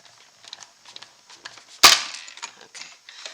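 A single sharp pop from a paper craft die-cutting machine as a piece runs through it, set among faint clicking and creaking mechanism sounds, near and otherwise quiet.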